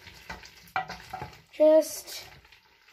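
Food being stirred in a pan, scraping and clinking of a utensil against the pan with light sizzling, a brief word spoken near the start.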